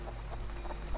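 Chickens in the video game Rust cluck softly in repeated short calls over a constant low background drone.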